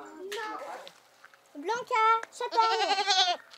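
Goats bleat at a children's school farm in the countryside, several wavering, harmonic cries coming close together, the last one long and loud, with faint background voices between them.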